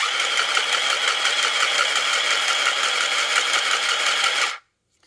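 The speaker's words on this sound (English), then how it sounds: "Go ahead and press the button in to sew and release to stop." A SINGER Stitch Quick+ handheld sewing machine stitches in a loud, close, steady rattling buzz that runs unbroken for several seconds and then cuts off abruptly as the button is released.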